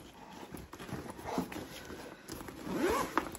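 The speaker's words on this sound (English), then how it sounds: "It has a zipper right there." Zipper on the back pocket of a tote bag being pulled open or shut, a close scratchy zip with a couple of quick runs, heard alone without talk.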